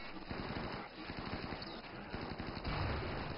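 Rapid minigun fire from RimWorld raiders rattles on continuously as a dense, unbroken stream of close, loud bursts with no pauses.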